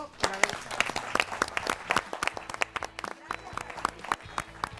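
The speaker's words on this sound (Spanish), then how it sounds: "Un aplauso." A studio audience on a Spanish-language family talk show claps in uneven, distinct claps with voices mixed in as the programme closes.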